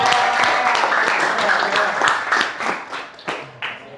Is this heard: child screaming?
no